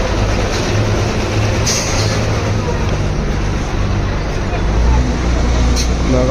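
Buses idling and moving at Latur bus stand, a loud continuous engine rumble and traffic noise with crowd bustle, as someone talks over it.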